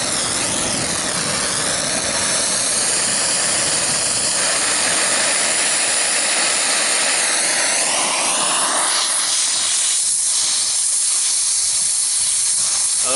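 A gas welding torch burns on scrap metal after work on a muffler, giving a loud, steady, close roaring hiss with no pauses that shifts slightly in tone as the flame plays over the metal.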